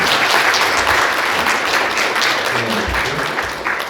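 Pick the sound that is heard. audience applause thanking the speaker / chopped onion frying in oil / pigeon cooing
audience applause thanking the speaker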